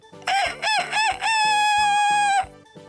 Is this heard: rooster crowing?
yes